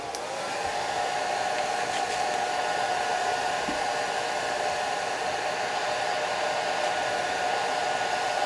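A hair dryer runs loud and unbroken close by, blow drying excess moisture off the flowers of a watercolor vase painting, its steady rushing hiss alone with no voices.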